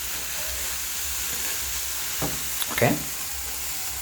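Beef samosa filling fries and sizzles in a pan with a steady hiss, punctuated by a few scraping clatters of stirring near the end, and a voice speaks a single brief word.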